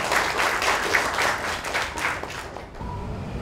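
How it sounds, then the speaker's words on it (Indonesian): A class of fifth-grade pupils claps in a classroom, a dense burst of many hands that fades near the end into quieter room noise. "Iya, tepuk tangan untuk"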